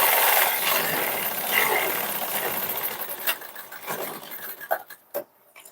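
A sewing machine runs in a fast continuous whir while stitching the seam of a blouse, then slows into a few rattling bursts and stops near the end.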